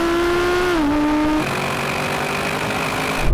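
An Audi RS6 GT launches in a drag race, its engine note climbing loudly, then dropping at a sharp gear change before pulling on again under a steady roar, heard close from inside the car.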